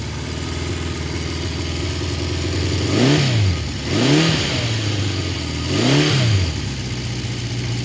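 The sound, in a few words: 1976 Honda CB750 K6 motorcycle engine revving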